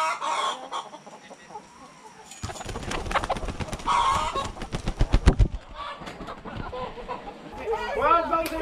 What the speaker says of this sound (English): There's chickens everywhere.